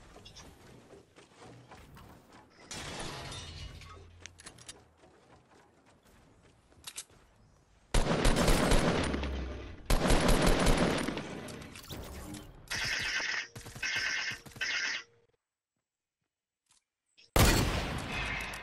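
Bursts of gunfire in Fortnite come in loud, choppy volleys separated by quieter stretches and a brief silence, with electronic game tones between the shots.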